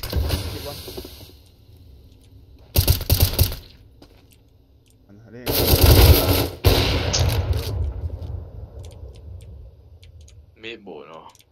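Gunshots in Counter-Strike: Global Offensive ring out in two loud bursts of rapid, crackling fire separated by quieter stretches, with a brief voice near the end.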